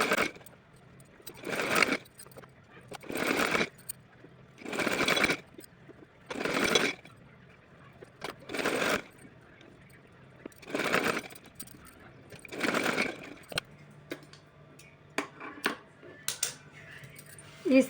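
A domestic sewing machine stitches a fabric strip for a small deity dress in repeated short whirring bursts, each a second or two long, separated by quiet pauses, close and moderately loud.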